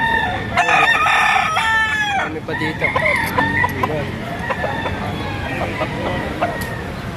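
A rooster crows loudly near the start, followed by many chickens clucking around at a poultry market in Lipa, Batangas, while someone speaks briefly in the background.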